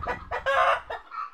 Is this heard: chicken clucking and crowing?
yes